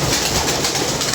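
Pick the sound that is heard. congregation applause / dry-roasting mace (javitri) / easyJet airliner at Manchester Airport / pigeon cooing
pigeon cooing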